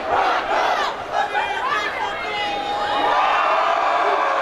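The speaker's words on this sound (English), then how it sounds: "That was the Brandeis fan base cheering 3 hours before kickoff, just waiting to get into the stadium." Football fans of Brandeis massed outside a stadium hours before kickoff for a bowl game, a loud sustained crowd roar of cheering and shouting voices that swells and stays dense throughout.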